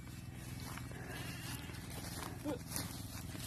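Goats are kept as livestock in a rural setting, and one bleats briefly under steady background noise and faint voices.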